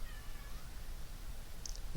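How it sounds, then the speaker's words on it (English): A house cat meows faintly indoors, one or two short high calls near the end over a steady room hum. "And Lola's meowing"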